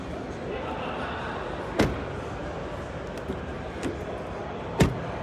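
The heavy front door of a 2026 Kia EV5 GT Line shuts with a solid thud, then again a few seconds later, each closing a sharp, close slam over quiet background.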